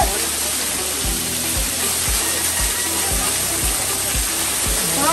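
Thin waterfall with only a low flow of water at a scenic falls near Jaflong, Sylhet, giving a steady close hiss and wash of falling water, with a faint rhythmic thudding pulse running beneath it throughout.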